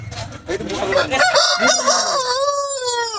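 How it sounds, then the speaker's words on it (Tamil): A rooster crows loudly and close at a busy rooster market in Kunnathur, near Tirupur, its long drawn-out call rising and falling over background clucking and market noise. "அருமையான காக சேவல் கொண்டு வந்திருக்காங்க"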